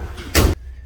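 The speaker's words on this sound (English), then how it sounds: "Close the hood." A single solid thump of the hood being shut on a 2022 Honda CR-V after an oil change, short and fairly close, with quiet room tone before and after.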